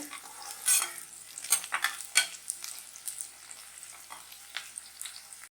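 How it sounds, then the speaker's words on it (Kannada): Onions frying in a pan for chicken gravy produce a soft, low sizzle with intermittent scraping and stirring clicks of a utensil against the pan, fairly faint and without talk. "ಚೆನ್ನಾಗಿ ಫ್ರೈ ಆಗಬೇಕು ಈರುಳ್ಳಿ."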